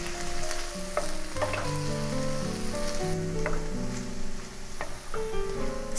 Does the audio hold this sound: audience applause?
no